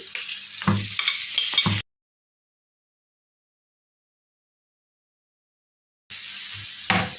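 Marinated chicken pieces frying in a pan: a close sizzle with stirring scrapes and knocks for about two seconds, then a long stretch of silence, before the sizzling and scraping return near the end.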